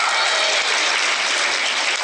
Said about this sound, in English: Big applause from Westwood there.